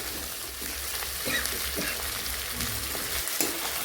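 Country chicken curry sizzles steadily in a pan while being sautéed kosha-style, a dense, close frying hiss with faint stirring scrapes and no talking.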